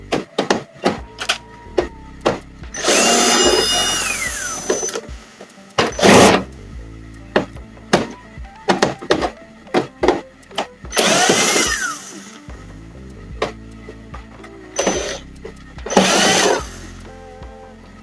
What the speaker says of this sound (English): I'm going to get the screws out.